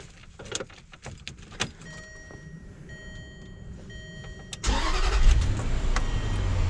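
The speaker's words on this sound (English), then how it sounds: "And then I'm going to start the vehicle up." A 2007 Land Rover Range Rover L322 starts up: a few electronic chimes and quiet clicks, then the starter cranks and the engine catches into a loud, steady idle that holds to the end.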